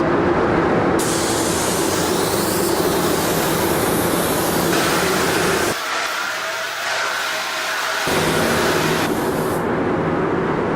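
Loud, continuous hiss of a spray gun spraying etching primer at about 40 pounds of pressure, running in long bursts with a brief pause midway before spraying resumes.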